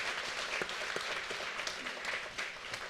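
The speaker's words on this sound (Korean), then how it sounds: "우리 큰 사랑의 박수," A church congregation applauds its children during a Sunday service, giving steady, even clapping from many hands that continues throughout.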